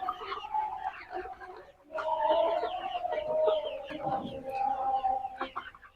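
Seventy-five-day-old farm chickens cluck and chatter on a poultry farm, a busy, near chorus of overlapping calls with a brief lull in the middle.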